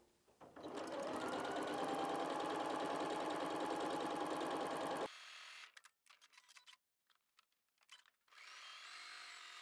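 A sewing machine quilts either side of seam lines on a quilt-as-you-go patchwork Christmas cushion with a quarter-inch foot, a loud, steady rapid stitching whir for about four seconds, then stopping into quiet handling noises.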